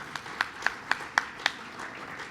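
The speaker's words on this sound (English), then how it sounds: "Please give them a big round of applause." Applause at a formal political event, heard as about half a dozen distinct, evenly spaced claps that stand out over a low background hum.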